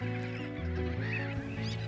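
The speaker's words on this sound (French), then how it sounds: "ces mouettes rieuses qui côtoient les goélands railleurs" Black-headed gulls and slender-billed gulls call over one another at a nesting colony, a dense, continuous chorus of harsh overlapping cries close by.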